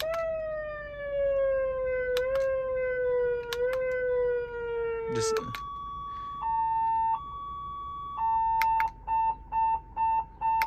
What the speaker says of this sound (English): Just regular beeping, and another car alarm there.